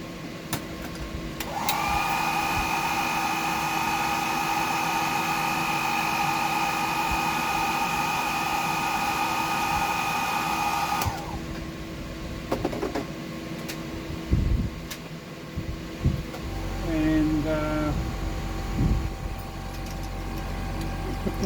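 A hair dryer blows steadily to dry paint on a deep-diving fishing lure, a loud continuous whine with a strong tonal hum that cuts off abruptly, followed by handling clicks and brief quieter sounds.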